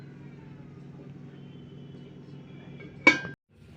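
A lid is set down on a hot pot, giving one sharp close metallic clink near the end, over a steady low rumbling background hum that briefly drops out just after.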